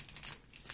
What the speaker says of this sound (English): And then it's wrapped in wrapping paper.